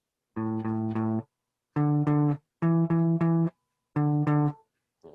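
Plucked guitar notes on the fifth string in short repeated groups of two or three, clean and close, separated by brief pauses, with no voices.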